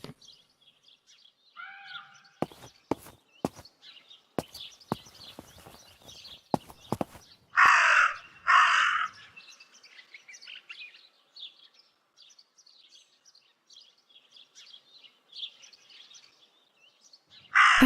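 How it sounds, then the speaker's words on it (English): A raven in the video game Martha Is Dead gives two loud, harsh caws in quick succession, set against faint chirping birdsong and earlier sharp clopping steps. "That raven is making a big fuss."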